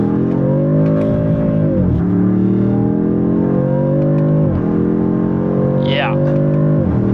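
A 2026 Dodge Charger Sixpack Scat Pack accelerating in a lower gear, a loud, steady engine drone that rises in pitch, drops at each gear change and climbs again, with a faint brief voice underneath.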